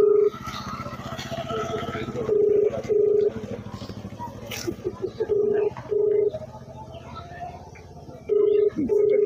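A phone call is placed about an unbuilt road on the Ateli–Mahendergarh route: several loud steady ringback tones repeat in bursts with pauses, heard near over a low background murmur of voices.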